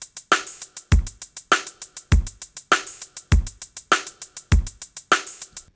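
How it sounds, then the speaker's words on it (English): A programmed drum beat repeats a loop with kick, snare and an open hi-hat placed on the second sixteenth note, crisp and steady with regular accents, played alone with no talking. "you can take an open hi-hat and place it on the second 16th note here"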